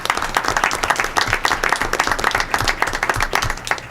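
Dense applause fills a school board meeting room for a runner being honoured, with many hands clapping together in a steady, lively burst heard from within the crowd.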